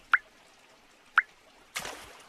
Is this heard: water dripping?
yes